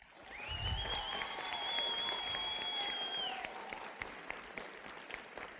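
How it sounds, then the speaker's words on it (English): A graduation ceremony crowd for the class of 2021 gives a sustained round of applause, a dense, steady clapping that swells and then slowly thins, with a sustained whistle-like tone heard over it. "Can we please have another big round of applause for the class of 2021?"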